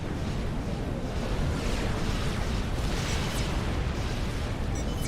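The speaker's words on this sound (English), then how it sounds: "it looks like Team 1 are starting to eat long-range Tech 3 artillery" Long-range Tech 3 artillery shelling in the Forged Alliance strategy game, a continuous loud barrage of rumbling blasts and booms with a dense roar, no clear gaps between impacts.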